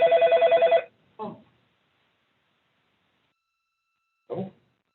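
A telephone rings once with a fast warbling electronic trill during a land use committee meeting, loud and clear, followed by two short soft sounds in otherwise quiet surroundings.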